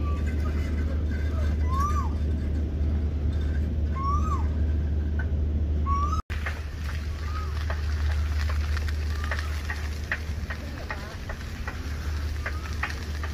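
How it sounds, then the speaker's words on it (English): Bats flying over a tropical island in the Maldives give repeated short, rising chirping calls, moderately loud against a steady low hum and breezy background, several calls spread across the stretch. "Them bats are loud."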